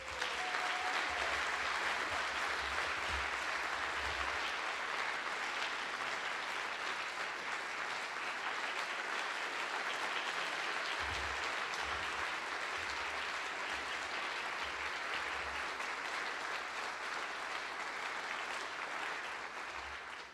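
An audience gives sustained applause at a livestreamed awards program, clapping steadily and evenly for about twenty seconds before tapering off at the end.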